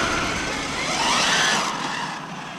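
A Losi Super Baja Rey 6S RC truck races over gravel, its electric drivetrain giving a loud continuous whine and hiss that swells and fades slightly as it passes, with rocks spraying.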